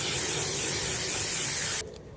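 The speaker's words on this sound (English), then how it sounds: "You can spray carb cleaner into these holes to clean them out." Carburetor cleaner hisses from an aerosol spray can onto an Acura TSX EGR plate, one loud steady burst lasting nearly two seconds before cutting off abruptly.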